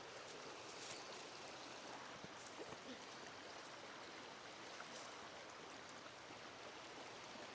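The Coleman River flows steadily in a continuous, soft rushing wash of stream water, heard faintly and alone.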